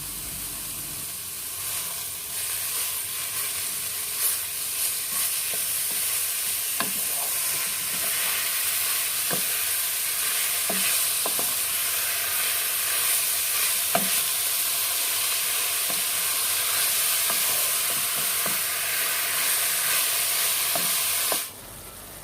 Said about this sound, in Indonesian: Sekarang kita masukkan setengah kilogram daging cincang.